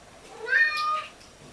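A Bengal cat gives a single drawn-out meow, moderately close but soft, over a quiet room background.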